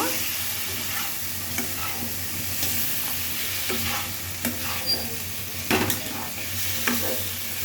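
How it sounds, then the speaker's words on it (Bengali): Fried potatoes stir-fried in spice masala in a pan: a continuous loud sizzle with repeated scraping and stirring knocks, strongest toward the end. "আলু দিয়ে ভালো করে কষিয়ে নেব"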